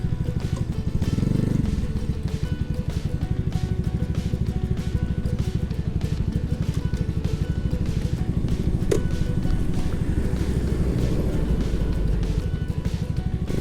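A Gunner100 motorcycle rides through a low-speed U-turn, its small engine putting out a steady pulsing putter at low revs. Wind buffeting comes and goes, and the engine swells briefly near the start and again toward the end.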